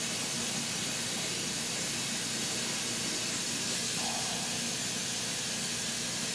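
Steady broadband hiss of steam rising from water boiling under a basket of potatoes in a steamer pot, a continuous even rush filling the whole stretch with no speech.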